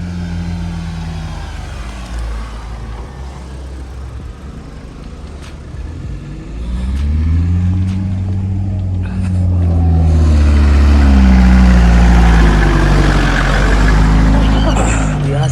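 Mahindra Thar off-road vehicles rumble as one drives up on an off-road trail, its low engine drone growing louder and closer, with voices talking in the background.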